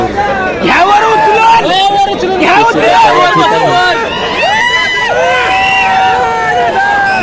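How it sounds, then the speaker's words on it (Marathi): A loud, excited crowd roars and shouts continuously at an outdoor bullock cart race ground in Pusegaon, voices overlapping in a dense, lively din. "अतिशय जल्लोष चाललेला आहे पूर्ण पुसेगावच्या या मैदानावरती"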